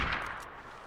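A hunting rifle fires at a whitetail deer in Way of the Hunter, a single sharp report at the start that decays into a long rumbling tail, with a faint click near the end.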